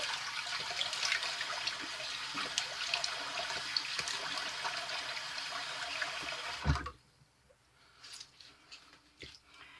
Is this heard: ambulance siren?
no